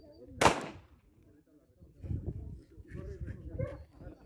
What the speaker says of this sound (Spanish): A mi voz, un solo disparo, por favor.